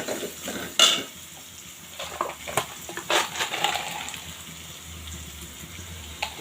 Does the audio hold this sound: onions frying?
yes